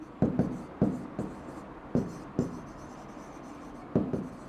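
A pen writes on paper in short scratchy strokes, coming in quick pairs and separated by brief pauses. The scratching is close and fairly quiet, and there is no talking.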